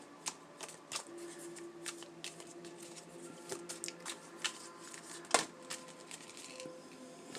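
Tarot cards being shuffled by hand, a run of soft riffling flutters and crisp snaps at irregular intervals, close up and fairly quiet, with no talk over them.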